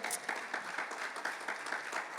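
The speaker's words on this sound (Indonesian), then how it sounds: "kita berikan tepuk tangan yang meriah buat Tuhan" A church congregation applauds during a sermon with dense, steady clapping across the whole stretch, moderately loud and even, with no voices rising above it.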